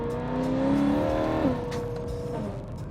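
BMW E92 M3 engine revving hard, rising in pitch then dropping off as the throttle is released, loud and close, followed by a steady lower engine drone.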